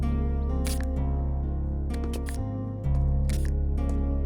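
Single-lens reflex camera shutter clicks several times over a steady music bed, a burst of sharp mechanical snaps spaced about a second apart, moderately loud and close.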